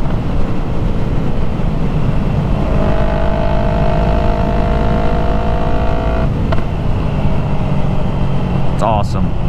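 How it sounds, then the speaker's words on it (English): A Yamaha MT-03 motorcycle with a full aftermarket exhaust revs steadily under heavy wind rush, then the throttle snaps shut and a sharp, loud backfire pop follows, with another crack near the end. "drop the throttle, I get an awesome, perfect backfire"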